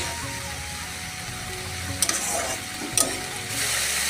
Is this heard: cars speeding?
no